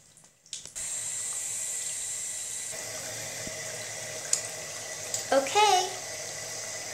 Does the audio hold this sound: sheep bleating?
no